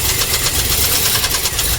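Loud, steady engine running with a rough, rhythmic knock pulsing through it, likely a failing rod bearing or a noisy lifter on a car, close to the microphone and with no talking.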